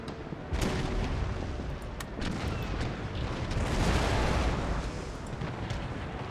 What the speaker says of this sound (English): Let's give this flute a nice broadside here with 9 out of our 12 cannons.